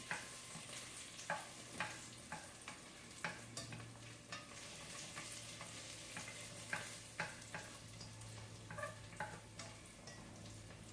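Capers frying in a pan for lemon spaghetti with shrimp, a faint, quiet sizzle broken by scattered small pops and clicks, with no voices.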